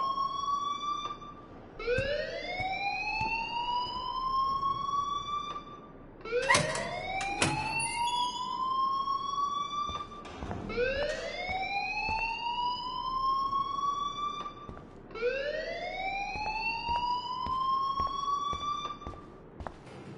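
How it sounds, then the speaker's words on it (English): A wailing alarm in the Life is Strange video game: four loud rising sweeps, each lasting several seconds and repeating at a steady pace, with sharp clattering bursts between two of them. "please turn off that alarm since that's your job"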